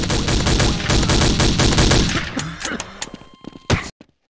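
Rapid bursts of gunfire in the game Garry's Mod, loud and dense at first, then thinning into a few scattered, separate shots before cutting to silence.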